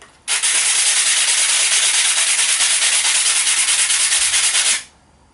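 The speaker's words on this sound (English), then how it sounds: "So I've gone for quite gritty sandpaper. Let's give it a go." Coarse sandpaper rubbed by hand over small wooden Brio toy train pieces, a loud close rasping scrub in fast even strokes lasting about four and a half seconds, with no talk.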